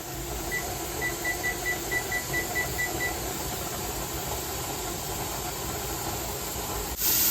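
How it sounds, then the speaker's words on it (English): A pressure canner holding jars of chickpeas vents a steady, continuous hiss of steam, loud and unbroken under a faint hum, while a short run of evenly spaced electronic beeps sounds early on. "The pressure canner is now venting a steady stream of steam."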